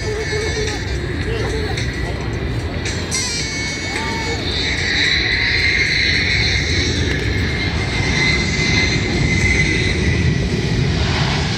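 A Boeing C-17 military transport aircraft touches down on a short landing and applies thrust reverse at an Arctic Thunder 2018 air show, a broad steady roar that swells and holds loud to the end, with crowd chatter mixed in.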